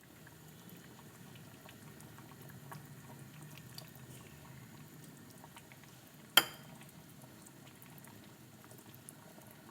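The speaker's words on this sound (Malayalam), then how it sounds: "ചട്ടി ആയതുകൊണ്ടാണ് ഓഫ് ചെയ്തിട്ടും തിളച്ചുകൊണ്ടിരിക്കുന്നത്." Fish curry in a clay pot keeps boiling with a soft, steady bubbling and gentle patter, fairly faint and close, broken once by a single sharp clink.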